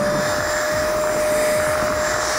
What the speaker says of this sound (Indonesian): pakai aja UV Might Vacuum Cleaner ini. Kita coba untuk ngebersihin selimut